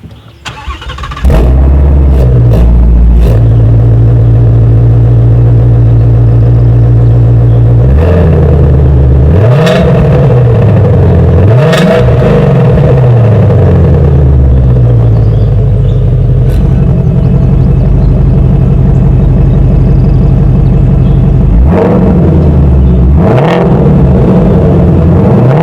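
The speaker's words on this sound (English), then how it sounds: "I want to put the exhaust mode in normal mode first, then I'm going to put it in sport" A sports car engine starts and idles with a deep rumble, then the exhaust in normal mode revs up sharply several times, loud and close, settling back to idle between blips.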